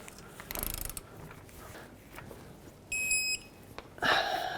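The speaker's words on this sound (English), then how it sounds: "go ahead and torque this lower one as well." A torque wrench tightens the lower rear strut bolt on a 2002-06 Toyota Camry, giving a few quiet ratcheting clicks and metallic mechanism sounds, with a brief electronic beep midway and a louder clatter near the end.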